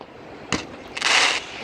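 Fireworks over Darling Harbour in Sydney, Australia: a single sharp bang followed about half a second later by a longer crackling burst, heard at a distance against a steady outdoor crowd murmur.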